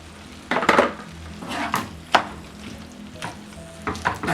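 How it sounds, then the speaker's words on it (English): Spaghetti being mixed into a pot of meatball sauce, with a low sizzle under repeated clinks and scrapes of a utensil against the pot, close up and without talk. "So I'm adding my spaghetti to it now"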